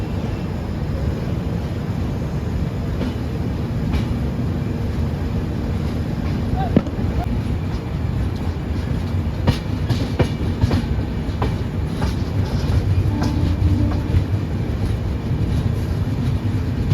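A train running on the Kolkata to New Jalpaiguri route, a continuous heavy rumble with rhythmic clicks and knocks from the wheels, wind noise on the microphone and faint voices in the background.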